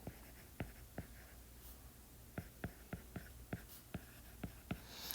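Faint pen strokes as a math equation is handwritten during a variation-of-parameters lesson, a dozen short scratchy taps in an uneven rhythm, close and quiet with no talking.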